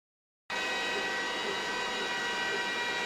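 A leather engraving machine starts abruptly from silence and runs with a steady, even hiss and whir, holding constant and fairly faint with nobody talking.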